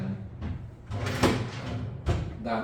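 A drawer in a hotel room at a spa resort slides open or shut, giving a few scraping, knocking bursts at moderate loudness close by, with no speech.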